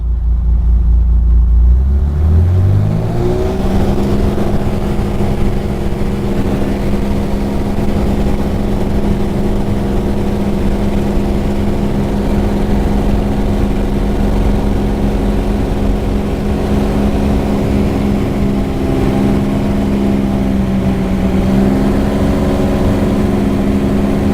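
A Lima Lima formation aircraft's propeller engine spools up from idle to a loud, steady roar for takeoff, its drone rising in pitch in the first seconds and then holding a constant, close, heavy sound throughout.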